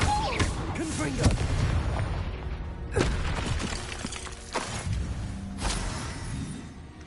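Fiery Confringo blasting-spell explosions in the video game Hogwarts Legacy: several sharp booming blasts at irregular intervals over a dense, continuous background of game sound.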